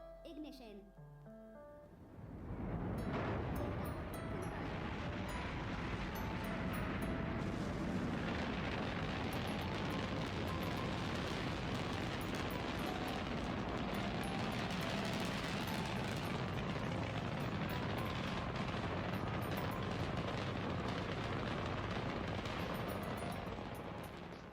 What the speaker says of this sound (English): now we're gonna go inside the rocket and take off